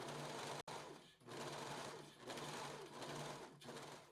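A sewing machine sews the facing onto a blouse, a close, even whirring hum that briefly stops and restarts several times in short bursts.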